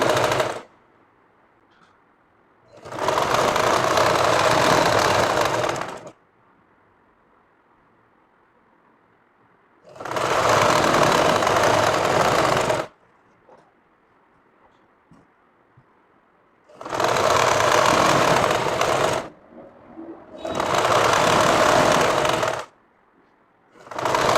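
A sewing machine runs a double stitch around a kameez collar in four long bursts of steady, loud, rapid whirring. Near-silent pauses fall between the bursts.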